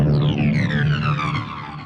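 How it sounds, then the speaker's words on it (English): A Logic Pro X ES2 synth preset called Total Nuclear plays a dense, roaring dubstep-style tone with a strong low drone and slowly falling upper harmonics, loud and sustained for nearly two seconds before tailing off, with no voice. "Post-apocalyptic sound that you get when a nuclear bomb goes off."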